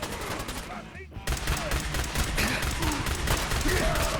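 Rapid gunfire from a companion in the post-apocalyptic game Fallout 4 crackles in dense, continuous bursts, loud and close, after a brief near-silent gap at the start.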